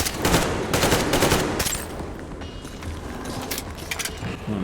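Rapid gunfire at mutants in Metro Exodus, loud bursts of close shots in quick succession at the start, then scattered sharper cracks and clatter trailing off over a lower rumble.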